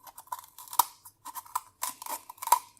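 Scissors snipping through a sea urchin's hard shell, a series of sharp crisp clicks and crunches in an irregular rhythm, close up and alone.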